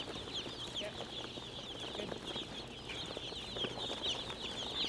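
Many young broiler chicks chirp continuously in a dense, high-pitched chorus on a barn floor during arrival and placement, steady and moderately loud with no talking.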